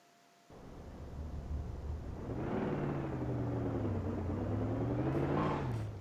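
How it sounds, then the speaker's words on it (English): A Hellcat engine in the racing game Forza Horizon 4, a rising supercharged drone with a steady whine that builds over several seconds after a quiet start, no talk. "This was the kind of supercharger whine I was expecting"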